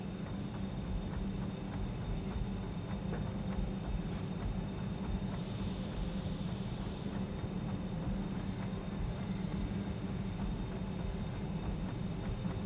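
Steady low rumbling drone of a subway-like train in the factory-building game Satisfactory, continuous and fairly loud, with a brief faint hiss partway through and no talking.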